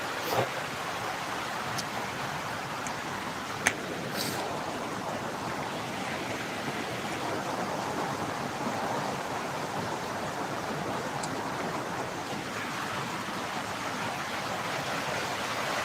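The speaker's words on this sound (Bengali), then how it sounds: "এখন আমাদের এই জায়গায় প্রচুর পরিমাণ বৃষ্টি হচ্ছে" Heavy monsoon rain pours down outdoors in a steady, dense, roaring wash that stays unbroken throughout, with a few faint clicks and no voices.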